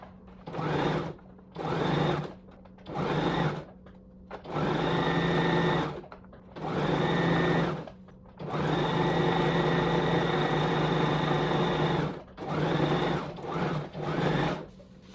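A sewing machine stitches fabric for a circle-cut halter neck top, running close up in a series of whirring bursts of uneven length separated by brief pauses, with no talking.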